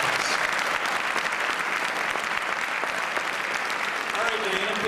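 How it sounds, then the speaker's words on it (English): Audience at a Christian worldview forum giving sustained applause, a dense, even wash of many hands clapping throughout, with a voice briefly heard near the end. "give them a thunderous round of applause"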